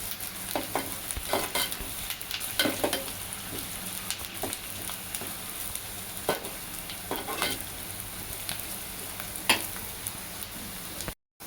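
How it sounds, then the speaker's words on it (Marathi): Masala, ginger and coriander sizzle in hot oil with a steady frying hiss and repeated stirring scrapes close by, ending abruptly. "त्यानंतर अद्रक कोथिंबीर टाकून घेतली आहे। तेलावर परतायची आहे छानपैकी।"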